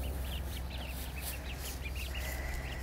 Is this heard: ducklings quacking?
yes